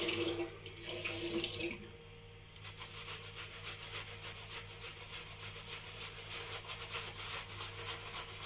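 Something being wetted under a running tap during a holiday, a steady loud stream of water hissing and splashing into a sink with light rubbing at the start, continuous and close with no talk.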